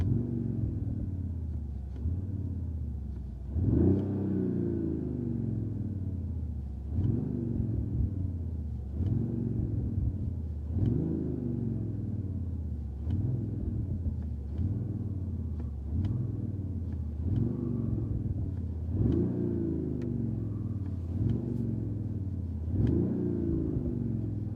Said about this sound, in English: Now listen, I will be revving it for you.